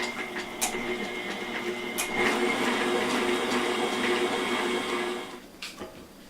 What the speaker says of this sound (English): now I'm just going to mix my potatoes in the rest of my pie filling there